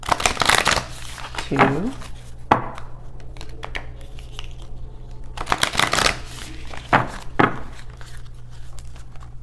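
Tarot cards shuffled and cut by hand in repeated bursts of riffling and slaps, close and crisp, with a voice counting softly between them over a steady low hum.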